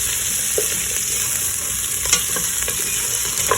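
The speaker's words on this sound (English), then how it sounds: "I've been frying the chicken for like a few minutes now" Chicken fries in a pan for a Malawi-style chicken stew: a constant close, crackling sizzle with occasional scraping knocks from stirring.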